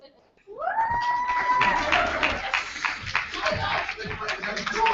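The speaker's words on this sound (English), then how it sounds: "Thanks for the applause, Omaha." A poetry slam audience in Omaha breaks into sustained applause and cheering, with a rising whoop at the start and clapping continuing throughout.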